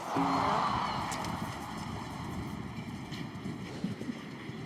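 A show jumping horse in the Longines FEI Jumping Nations Cup arena at La Baule in 2019 drums its hooves steadily across the course, with a brief whinny-like sound early on and a hum of arena noise around it.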